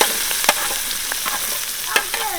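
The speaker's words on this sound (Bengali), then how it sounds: "এখন আমরা পেঁয়াজ আর মরিচ তেলের ভিতরে দিয়ে দিব।" Onions and chilies hit hot oil in a pan while goat ears cook for mutton nihari. A loud, close, steady sizzle carries on throughout, with scattered clinks and scrapes from stirring.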